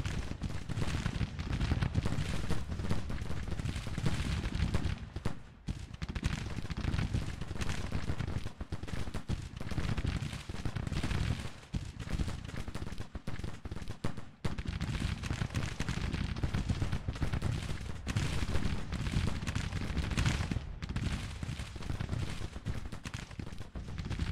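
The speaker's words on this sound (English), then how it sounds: "My artillery's just been happily plugging away at these boys." Artillery fire in Grand Tactician: The Civil War, a Civil War battle game, comes as a dense, continuous rumble of distant cannon booms and crackling gunfire, with sharper reports breaking through at intervals.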